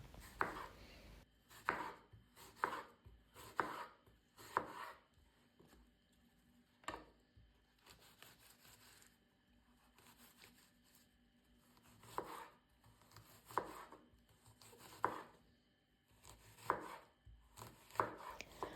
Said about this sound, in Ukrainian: Його також нарізаю середніми шматками.